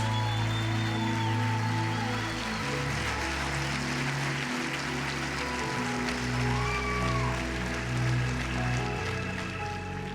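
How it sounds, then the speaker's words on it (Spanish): Church congregation applause rolls on as a steady crackling wash of many hands, with sustained low musical tones from an organ or keyboard playing underneath throughout. "Dale un aplauso a Jesús"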